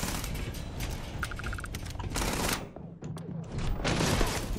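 Gunfire from a weapon in the Starfield video game, a dense run of shots and mechanical clatter layered under game ambience, loud and continuous through the stretch with a brief dip midway.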